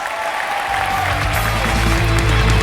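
A gala audience at the Akademia awards breaks into sustained applause for a heavy metal artist, the dense clapping swelling louder and filling the hall without any voices over it.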